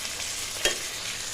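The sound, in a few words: tomato frying and being stirred for chicken curry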